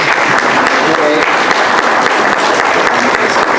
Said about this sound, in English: So this is the round of applause